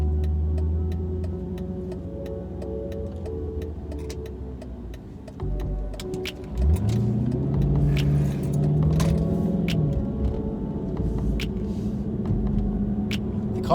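Dodge Challenger RT car engine idling with a low, even rumble, then a rev swells and settles into a higher, steadier drone, with faint clicks and rattles nearby.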